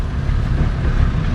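Six-cylinder diesel engine of a Case 1200 tractor at a threshermen and collectors show, giving a steady, loud low rumble that runs unbroken with no talk.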